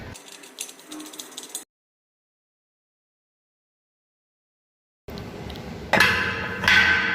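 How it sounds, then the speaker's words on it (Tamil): A cap nut is fitted and tightened on a water pressure booster pump air tank, giving close metallic rattling and ratcheting bursts separated by a few seconds of silence, then louder scraping and clinking. "அடுத்ததாக அதுக்கு மேலே உள்ள கப்பு நட்டை போட்டுருவோம்"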